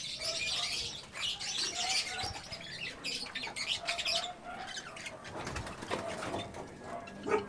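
Pigeons in a racing pigeon loft and aviary flap their wings in scattered bursts and coo and chirp softly nearby, over a continuous background of bird activity.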